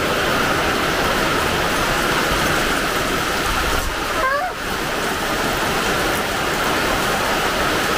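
Steady heavy rain pours down in a dense, continuous hiss, loud and close throughout, with a brief faint bird-like chirp in the middle.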